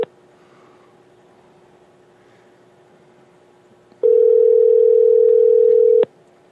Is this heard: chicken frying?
no